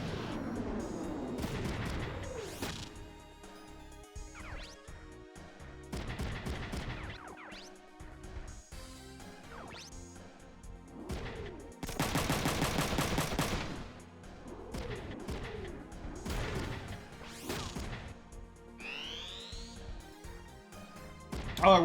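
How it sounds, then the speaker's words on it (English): A giant robot in the video game Front Mission 3 fires missiles in separate sharp bursts and crashes, with sweeping launch tones and music-like game sounds filling the gaps between impacts. "I'm going to continue to fire missiles,"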